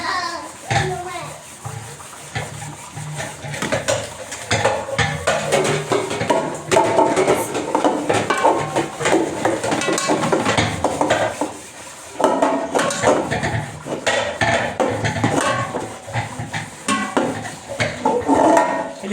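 Dishes, pots and pans clatter and scrape in a home kitchen as pots are scrubbed by hand, busy clinking and knocking throughout, with talk and children's voices mixed in.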